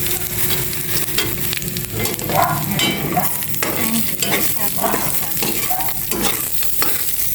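Garlic and peanuts frying in a pan, a loud continuous sizzle with repeated scraping stirs and rattling as the pieces are tossed around, close up.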